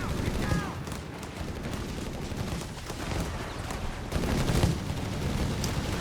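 Several 20mm Flak Panzer cannons in the video game Company of Heroes 3 keep up rapid, overlapping bursts of fire, a dense crackling barrage that swells near the end, heard under battle noise and a voice talking.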